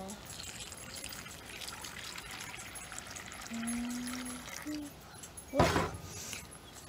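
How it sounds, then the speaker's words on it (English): Water is poured into a plastic bag during a kitchen science experiment, a faint trickle under quiet room noise that ends in a short, louder splashing pour near the end. "Do you want me to help pour the water in there?"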